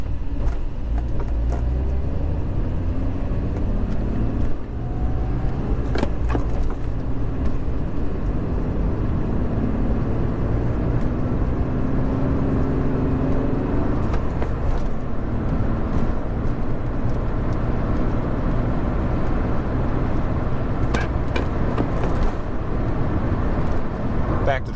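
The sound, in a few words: manual 1986 Mercedes 300E car driving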